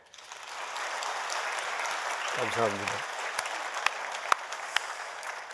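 Steady applause from a congregation fills a church during a dawn worship retreat, with a brief spoken phrase in the middle and a few sharp claps standing out near the end.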